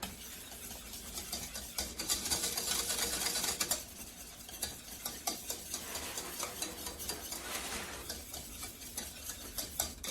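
A whisk beats leave-in hair conditioner mixture in a pot, producing quick rhythmic scraping and sloshing strokes that speed up in bursts, close by with no voices.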